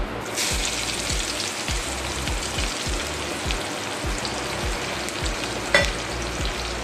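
Nigella seeds hit hot oil already flavoured with crushed cardamom and cloves for a katla fish and potato curry, making a loud, dense sizzle with regular low thumps and one sharp click near the end.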